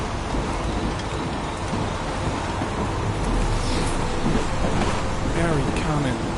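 Steady rain pours in a game of Heavy Rain, a continuous wash of noise with faint surf-like swells running throughout, no spoken voices heard.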